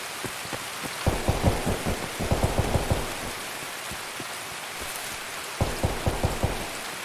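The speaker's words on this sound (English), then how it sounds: "It is pissing down with rain." Heavy rain pours steadily in the shooter Escape from Tarkov, a constant hiss with clusters of footstep thuds and a distant rumble, no voices.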